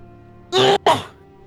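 A single sharp sneeze bursts out close by, two quick explosive parts in rapid succession, then quiet.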